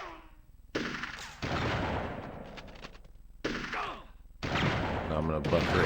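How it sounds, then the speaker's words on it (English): Gunfire bursts from the N64 game Army Men Sarge's Heroes, loud rattling volleys in several bursts with game sound effects in between. "Shoot the guard to the box."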